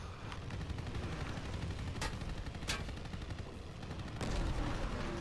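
Gunfire in Call of Duty WWII: a steady, distant wash of battle noise broken by a few sharp, loud shots, with the rumble swelling louder toward the end.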